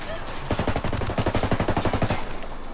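Gunfire in the video game Ghost Recon: a tight, rapid run of evenly spaced loud shots, fired close in one sustained stream lasting about two seconds.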